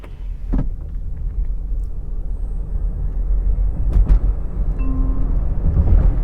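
A Mahindra BE 6 electric car accelerating at full throttle in race mode, heard from inside as a steady low rumble of road and motor noise that swells gradually, with a few brief clicks and a faint tonal whine.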